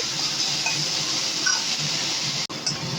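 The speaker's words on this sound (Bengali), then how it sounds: "দুটোকে একসঙ্গে করে ভেজে নেব" Eggplant and greens sizzle steadily in a hot pan, a continuous frying hiss with faint stirring sounds.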